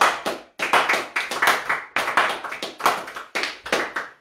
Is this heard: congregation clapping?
yes